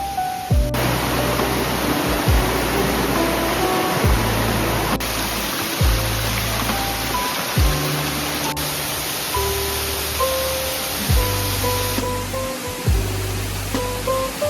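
Steady, broadband rush of a waterfall at a campsite in Kanchanaburi, Thailand, continuous and fairly loud for the whole stretch, with someone speaking over it intermittently.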